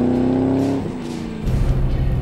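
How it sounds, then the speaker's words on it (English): A life-size Hot Wheels Chevrolet Camaro drives by with a loud, close engine note, a steady rev that drops briefly and then climbs again as the car accelerates. "Driving a Hot Wheels car."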